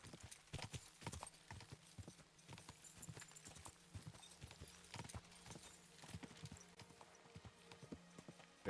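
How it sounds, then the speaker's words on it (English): Horse hooves clip-clop in Kingdom Come: Deliverance II, a quick, steady trotting rhythm of close, sharp hoof strikes that continues throughout, with faint game ambience underneath. "My trusty steed that I have not replaced."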